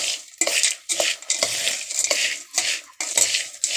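Dry fried ennekalu (avarekalu) snack mixture tossed in a bowl, giving close, crunchy rustling scrapes that repeat roughly every half second, with no voices.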